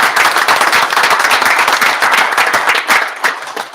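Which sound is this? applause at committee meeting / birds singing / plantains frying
applause at committee meeting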